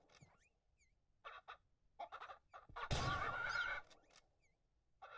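Chickens clucking in the Ranch Simulator farming game, with short scattered calls and one louder, longer burst of squawking flutter in the middle. The sounds are fairly faint overall and there is no speech.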